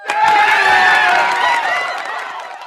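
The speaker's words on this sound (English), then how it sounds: "It's a very quiet cheer" A small crowd cheers and claps in a brief burst that starts strongly, then slowly fades. The sound is fairly soft and gets quieter toward the end, with no talking over it.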